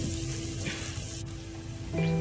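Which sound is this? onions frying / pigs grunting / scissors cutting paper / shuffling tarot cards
onions frying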